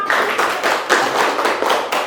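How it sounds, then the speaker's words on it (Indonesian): Schoolchildren in an elementary school classroom clap together in a loud, close burst of rhythmic applause lasting around two seconds. "tepuk tangan untuk kita semua"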